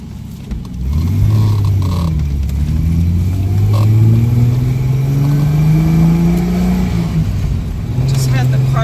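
A 1976 Triumph TR6 engine with a freshly serviced carburetor and new spark plugs runs steadily, its rumble rising and falling as it revs up and settles back, close and continuous throughout.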